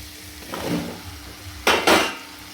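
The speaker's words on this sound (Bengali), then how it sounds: "এবার আমি এর মধ্যে কুমড়োটাকে দিয়ে দেব।" Pieces of pumpkin hitting hot oil with ginger paste in a pan for a vegetarian pumpkin and potato dish, giving two short, loud bursts of sizzling close by after a quieter stretch, with no voices.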